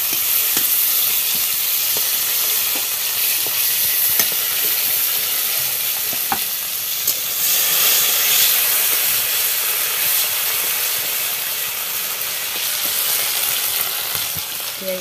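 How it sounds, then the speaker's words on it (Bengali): Potatoes fry in hot oil in a pan, with a steady, close, hissing sizzle and light stirring clicks throughout. "এবার ডিমের পরে আলুগুলো ভেজে নেবে"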